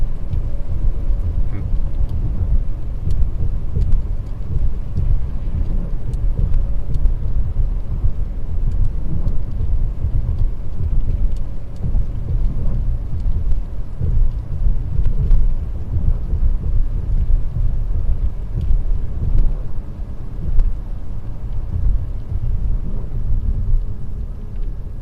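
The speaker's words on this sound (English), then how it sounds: "there's the first thunder that I've heard all day" Thunder rolls low and continuous through a Wisconsin storm, a deep, sustained rumble with rain beneath it, steady and moderately loud throughout.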